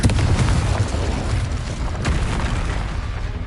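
Loud, continuous booming blast of the Confringo spell exploding in Hogwarts Legacy, a dense rumbling roar filling the whole stretch without pause.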